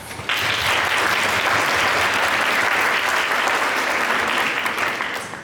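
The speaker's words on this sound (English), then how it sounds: "Please help me give him a round of applause." Dense, even applause from a pageant audience, starting abruptly and holding steady for several seconds before tapering slightly at the close.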